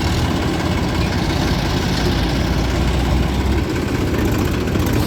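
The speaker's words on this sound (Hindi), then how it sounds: "सामने ही खड़ा है ट्रैक्टर।" A Sonalika DI 35 tractor idles nearby, its diesel engine giving a steady, loud low-pitched rumble throughout with no talk over it.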